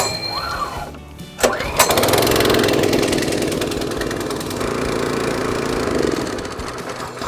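A petrol lawn scarifier started with a recoil pull on choke: a quick rasp of the cord, a brief sputter, then the small engine catches and runs steadily at a loud, even idle close by.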